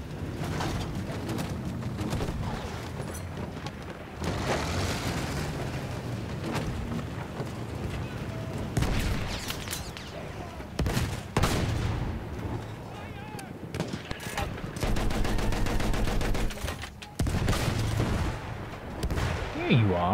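Battlefield 1 battle scene with heavy artillery booms and rattling gunfire, dense explosions and volleys layered one over another, loud and close throughout, with soldiers' voices mixed in.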